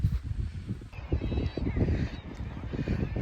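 Gannets at the Bempton Cliffs seabird colony, a dense clamour of harsh, overlapping guttural calls, loud and close throughout, with wind rumbling underneath.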